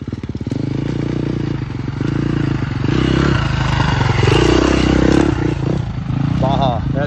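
Motorcycle, a JAX Redline ridden hard off-road through Baja at night, with a loud, close engine roaring and revving continuously, gravelly clatter and scraping underneath, and voices talking over it.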